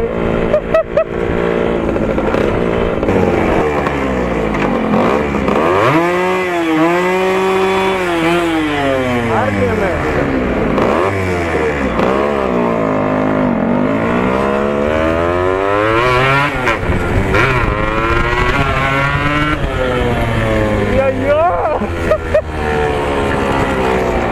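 A loaded Yamaha RX-King two-stroke motorcycle engine revs hard and continuously, its pitch sweeping up and down through repeated throttle blips, loud and close throughout.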